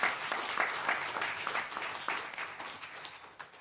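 Brief, fairly quiet audience applause for a panel at a chapel service, steady dense clapping with no one speaking over it.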